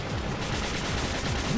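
Turret gunfire in Spark the Electric Jester 3 rattles in a fast, steady stream of shots, loud and close throughout the short burst, with no talking.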